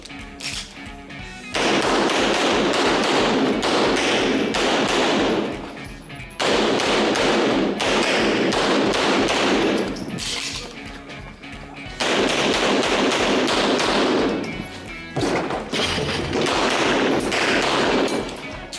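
Rapid strings of pistol shots from a Masterpiece Arms DS9, a 9mm IDPA competition gun, come in three long, loud bursts of fast sharp cracks, separated by brief pauses.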